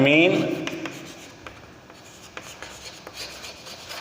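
Chalk or marker writing on a board during a physics lesson: a short burst of rubbing strokes, followed by quieter scratchy strokes and taps. A voice talks at the start.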